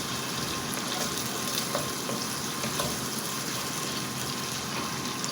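Onions fry in a pan, a steady, fairly close hiss of sizzling oil with faint crackles and a few soft clicks, no talk.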